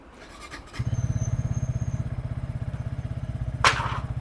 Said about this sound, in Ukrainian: Запускається без всяких запитань, як нормальний інжекторний мотоцикл